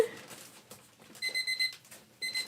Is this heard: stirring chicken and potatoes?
no